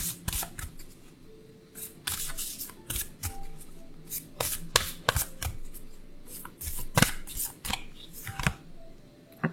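Oracle cards are shuffled by hand in a long series of quick crisp riffles and snaps, close and irregular in rhythm, with soft rustling between bursts and no talking.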